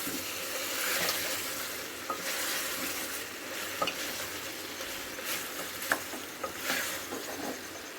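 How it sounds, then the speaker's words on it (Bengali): Meat coated in meat masala sautéed in a pan for a potato and meat curry, with a steady close sizzle and repeated scraping stirs and soft clicks of a spoon against the pan throughout. "মিট মশলাটা দিয়ে আমি কষাবো।"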